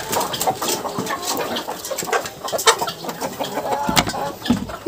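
Chickens cluck close by at feeding time in a farmyard, giving irregular, overlapping short calls and scratchy bursts, moderately loud, with no talking.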